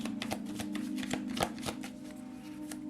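A deck of tarot cards is shuffled up close, giving a steady run of quick, soft riffling taps. The shuffling is quiet and continuous, with no one speaking.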